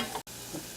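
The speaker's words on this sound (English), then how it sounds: "we're just going to mix this all together" A flour, butter and cream mixture is stirred in a pan, giving a soft, brief scraping swirl with a faint sizzle, quiet and without talk.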